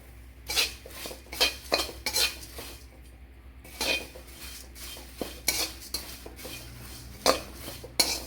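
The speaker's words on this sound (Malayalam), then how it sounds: "അവിലൊന്ന് വറുത്തെടുക്കണം." Flattened rice (poha) dry-roasting in a pan, stirred with a utensil: irregular close bursts of scraping and metallic clinks with quiet gaps between strokes.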